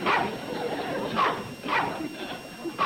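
A dog barks in a quick series of about four sharp, fairly close barks with a short whine, evenly spaced over a faint room background.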